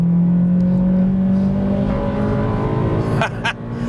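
A Honda Integra Type-R DC5 engine holds a loud, steady high-revving drone with a sustained tone that shifts slightly as it climbs, then dips with a brief change near the end, heard up close with no talk.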